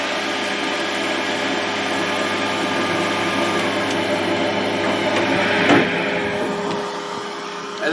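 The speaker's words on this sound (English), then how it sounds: "As you can see, down the fan has now turned on." A thermostat-switched cooling fan in an electric vehicle conversion runs with a steady, loud mechanical whir and hum, holding constant for several seconds before a brief bump and a slight drop in level near the end.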